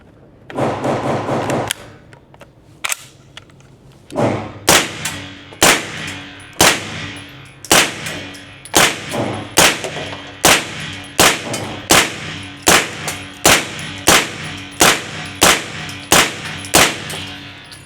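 Pistol shots from an H&K SP5K ring out at a shooting range: a quick cluster first, then about fourteen loud, sharp reports at a slow, steady pace, each close and cracking with a brief ringing tail.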